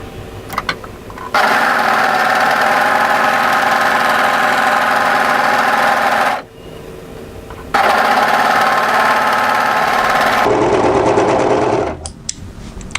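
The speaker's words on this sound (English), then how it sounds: "we're going to overlock from the hem up to this notch here" An overlocker sergeing dress fabric from hem to notch runs in two long steady bursts, a loud close mechanical whir with a brief pause between them and a short softer run at the end.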